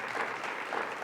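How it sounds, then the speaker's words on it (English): Audience applause for council members at a New York governor's announcement event, a steady, dense wash of clapping that fills the whole short moment without pause. "Let's give them a round of applause."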